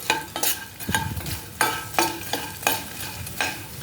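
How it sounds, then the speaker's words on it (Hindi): Edible gum (gond) frying in ghee, with rhythmic scraping stirs of a spatula against the pan every half second or so over a crackling sizzle, close and fairly loud, no talk. "गौन को हम यहाँ पे तब तक फ्राई करेंगे जब तक ये पूरी तरह से फूल ना जाए"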